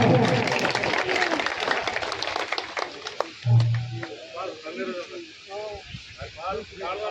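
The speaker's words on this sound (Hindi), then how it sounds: "जोरदार तालियां।" A crowd at an outdoor Ambedkar rally in a Rajasthan village claps loudly for a few seconds before the applause fades and someone speaks over a loudspeaker.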